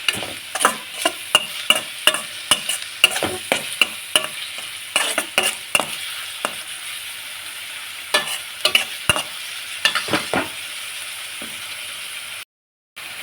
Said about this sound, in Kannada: ಉಪ್ಪನ್ನ ಹಾಕ್ಕೊಂಡು ಈ ರೀತಿಯಾಗಿ ಮತ್ತೊಂದು ಸರಿ ಫ್ರೈ ಮಾಡ್ಕೊಳ್ಳಿ.